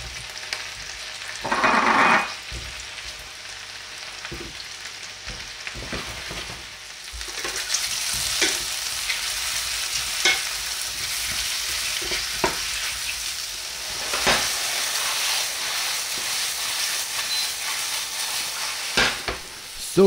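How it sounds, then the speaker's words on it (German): Mushrooms sizzle and fry in butter in a pan, a steady close hiss broken by stirring scrapes and clatters, with one louder burst near the start. "Um den Geschmack zu maximieren, nehmen wir Butter zum Anbraten. Und in diese Butter geben wir dann die Pilze hinein."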